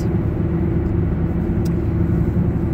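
Steady low rumble and road roar inside a moving car on the way to a doctor's appointment, a constant drone with no breaks and no one talking.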